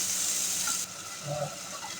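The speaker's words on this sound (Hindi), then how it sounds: "इन तमाम मसालों को हम टमाटर और प्याज के साथ अच्छी तरह से भून लेंगे 1 मिनट तक।" Spices sizzle with tomato and onion in a pan for dhaba-style urad dal, a steady close frying hiss with faint stirring sounds and no talking.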